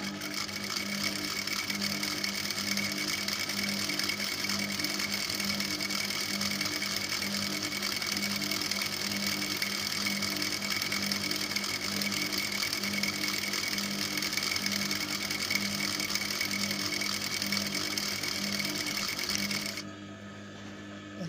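A sewing machine runs a long, steady stitching whir along a child's palazzo seam, holding an even rhythm close up for about twenty seconds before it stops at the end.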